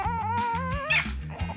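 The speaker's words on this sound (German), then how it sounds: "Lassen Sie den Hund runter." A dog whimpers and yips in short, pitched whines that rise and fall, close and fairly loud, with low sounds underneath.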